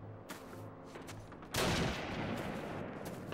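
Call of Duty gunfire rings out with one sharp, loud shot partway through, followed by a long ringing tail, above quieter battle noise and a few faint earlier reports.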